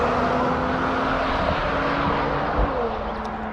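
Prototype cars on manufacturer test runs at the Nurburgring, heard as a distant continuous engine drone with a steady tone that fades slightly, roaring from afar with no close pass.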